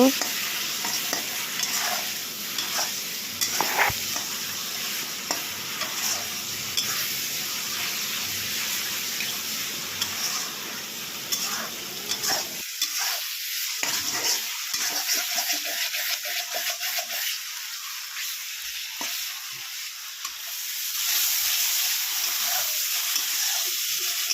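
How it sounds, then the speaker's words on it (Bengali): Ridge gourd with salt and turmeric stir-fried in a pan, a loud continuous sizzle with frequent scraping stirs for the first half, then quieter intermittent stirring before the frying swells again at the end. "এখন ভালো করে কষিয়ে নেব ধুন্দুলটাকে"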